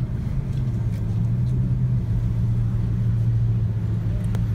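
A Bugatti Veyron supercar lapping past produces a steady, low engine rumble with a constant drone, heard from a moderate distance with no clear revving peaks.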